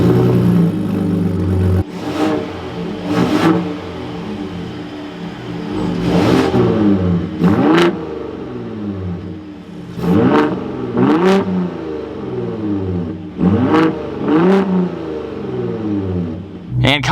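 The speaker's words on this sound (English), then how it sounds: "let's fire this up again and get some revs of this Raptor" A 2023 Ford F-150 Raptor engine is revved repeatedly from idle, with several sharp throttle blips rising and falling in clusters, loud and close against a steady idle.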